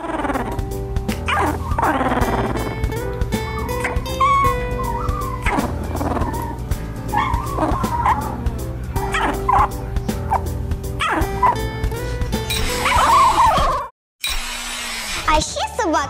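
A sleeping dog makes long wavering howling and whimpering sounds, rising and falling in pitch, close by, with a brief cut near the end.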